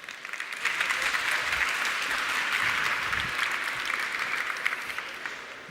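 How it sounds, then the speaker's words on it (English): A large audience at a design conference greets a speaker with sustained, even applause, a dense wash of clapping that stays loud and steady throughout. "Let's give him a big round of applause."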